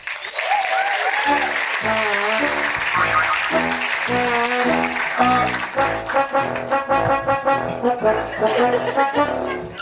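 A theatre audience at a comedy-science show applauds Professor Peter Bragg with loud, sustained clapping, while a rhythmic musical piece plays through it.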